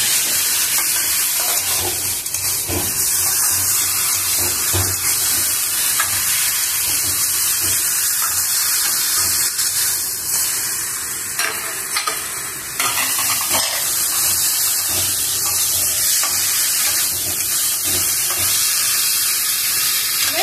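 An egg frying with mushrooms in a pan gives a loud, steady sizzle with stirring and scraping throughout, alone and close.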